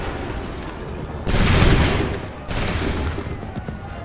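A massed musket volley in Assassin's Creed III during the Battle of Lexington: two loud crackling bursts of many overlapping shots, each trailing into a rumbling echo over steady battlefield noise.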